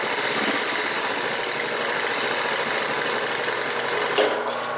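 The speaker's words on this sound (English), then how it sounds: "This is 2 layers of denim from some pants. And I'll show you sewing over this seam." A Singer 31-15 industrial sewing machine runs steadily through two layers of denim, giving a loud, continuous close-up mechanical hum and whir without pauses.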